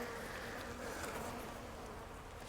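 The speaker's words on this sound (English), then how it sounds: "I got a bee in my veil" A honeybee buzzes steadily right beside a beekeeper's veil at a hive, a close, continuous drone with no voices.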